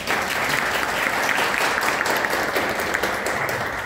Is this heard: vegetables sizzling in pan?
no